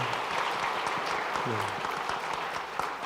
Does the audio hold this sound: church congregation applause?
yes